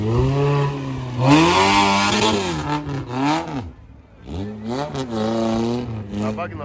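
A UAZ off-road vehicle's engine climbs a hill during an off-road trophy sprint, revving hard and rising and falling in pitch under rough load, loud and close, with speech in the clip.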